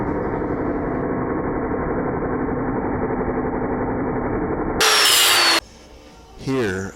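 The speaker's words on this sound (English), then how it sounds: "break out the 5-inch cutting wheel, and trim off the extra bolt that we no longer need" A 5-inch cutting wheel trims an excess metal bolt on a 1961 Rival Grind O Mat grinder plate, grinding loudly and steadily for several seconds, then a sharp high screech burst and a short tail of metallic rattling.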